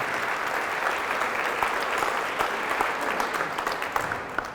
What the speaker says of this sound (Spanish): Fuertes aplausos a Jesús por su amor y su misericordia.